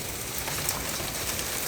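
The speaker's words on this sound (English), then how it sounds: "So right now it's just rain, but it's 32 degrees" Steady rain falls outdoors on a freezing 32-degree morning, a continuous, even hiss of drops with no distinct individual impacts and no voices.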